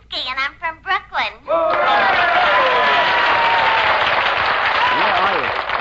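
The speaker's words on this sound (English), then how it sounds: "I fail to see why the location of birth should be met with applause." A studio audience bursts into loud, sustained applause during a radio play, following a few seconds of spoken dialogue.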